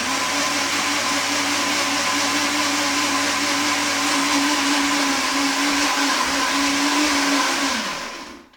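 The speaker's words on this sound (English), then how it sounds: "And give it a blend again" A blender whirs loudly and steadily for several seconds while blending ice cream, Philadelphia cream cheese and berries for an Oreo dessert, its pitch dropping slightly before it winds down and stops.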